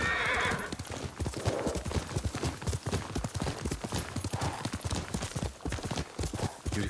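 A horse gallops with rapid, rhythmic clip-clop hoofbeats and whinnies loudly in the open-world samurai game Ghost of Tsushima, close and continuous with no talk.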